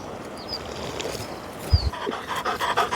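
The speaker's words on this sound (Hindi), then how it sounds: "ये देखो भाई ये हैं भूटिया कुत्ते।" A Bhotia dog of a shepherds' camp in the Himalayan hills pants audibly outdoors, rapid breathy puffs over steady ambient noise, with a couple of faint higher whimpers.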